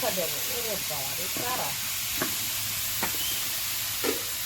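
Food fries in a pan with a steady, hissing sizzle; a voice speaks briefly at the start, then a few light utensil taps sound over the continuous frying.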